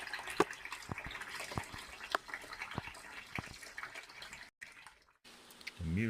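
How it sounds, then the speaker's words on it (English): Distilled water runs and splashes steadily as it rinses a Soligor MT-800 200mm Newtonian telescope mirror, with small drips and clatters before a brief silence near the end. "then I will rinse it with the distilled water"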